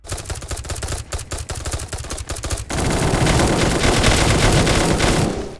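Sustained full-auto gunfire from several enemies at once in the PC shooter Soldiers of the Universe, dense overlapping bursts that start choppy and then merge into one loud, continuous roar.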